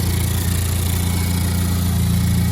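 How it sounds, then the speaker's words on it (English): A Honda Civic Type R fitted with a Mitsubishi turbo upgrade idles steadily close by, a loud even low-pitched rumble with a constant mechanical hum and no voices. "Car's running. Sounds good."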